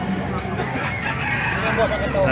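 A game fowl rooster crows at a busy market, the call heard briefly over dense crowd noise and talk close by.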